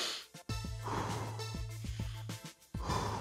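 Someone breathes in through the nose and out through the mouth during an at-home jogging workout, several distinct, close breaths and sighs with short pauses between.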